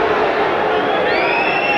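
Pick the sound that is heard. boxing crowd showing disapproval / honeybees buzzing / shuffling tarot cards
boxing crowd showing disapproval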